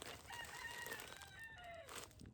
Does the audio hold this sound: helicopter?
no